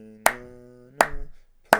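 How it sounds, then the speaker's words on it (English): Three sharp hand claps ring out at a slow, steady pace, each striking with a sustained piano-like tone that decays underneath during a beginner piano lesson on Yankee Doodle. No one speaks. "just clapping and singing the words"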